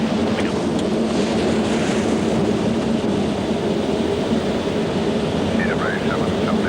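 Airliner engines roar steadily during the takeoff climb, a continuous loud broadband rush with wind noise and no break, while cockpit callouts are spoken over it.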